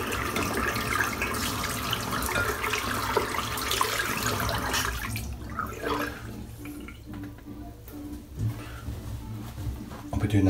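Water from a tap runs steadily while shaving soap is rinsed off a shaved head, a close rushing splash that thins and becomes more broken midway, with light splashes and drips, no talking.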